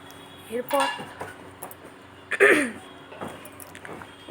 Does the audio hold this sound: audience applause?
no